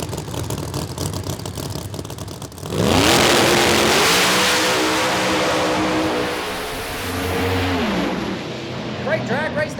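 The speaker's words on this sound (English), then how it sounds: "Great drag race there, but Nate Saylor gets to the finish line" A drag racing car launches and accelerates hard down the strip at an Outlaws event at Virginia Motorsports Park, its loud engine roar rising in pitch through the gears after a quieter idling stretch, dominating the sound.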